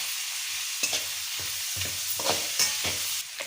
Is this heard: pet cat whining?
no